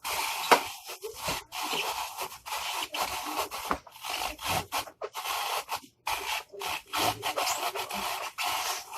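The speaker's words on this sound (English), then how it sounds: "But the carrots are a little harder to grind." Carrots being ground in a food grinder while preparing reptile food, a rough rasping, grating noise in short repeated bursts with brief pauses, fairly close and steady, with no talking.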